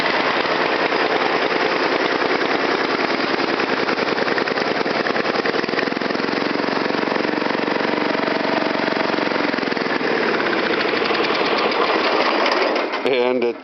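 A small tractor engine with a custom muffler exhaust runs steadily and loudly close by with a fast, even chugging idle, and stutters to a stop at the very end.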